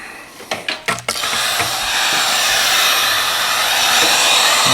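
A few quick mechanical clicks, then a loud, steady blowing whoosh of a heat gun running continuously up close on leather being repaired.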